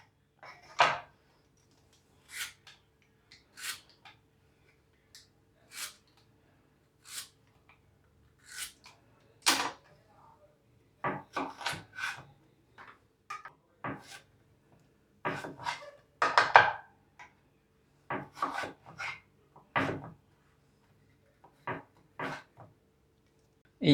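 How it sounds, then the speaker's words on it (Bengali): Pointed gourds (potol) sliced with a kitchen knife, a series of crisp, separate chopping knocks at an irregular rhythm, close and fairly quiet, with no voices. "এইভাবে পটলগুলোকে আমি কেটে নিলাম।"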